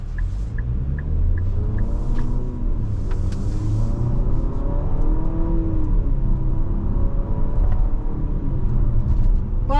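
A 2025 Infiniti QX60 Luxe AWD with the VC Turbo engine accelerates, giving a loud, steady engine rumble and whir that rises in pitch as the revs build, with no talking.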